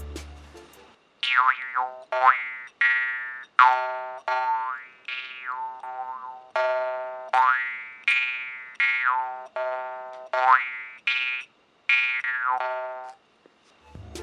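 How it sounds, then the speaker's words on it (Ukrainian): Twangy jaw harp notes played alone in a steady run of plucks, each with a bright, swooping overtone that bends up and down. "Це основна механіка гри на дрембі"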